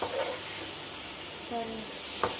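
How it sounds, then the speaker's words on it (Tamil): Tomatoes for kothu chapati sauté in a pan with a soft, low sizzle, broken by a few brief utensil clinks near the end. "இப்போ நல்லா தக்காளி நல்லா வதங்கிட்டு, நல்லா வதங்கி வந்துருக்கு."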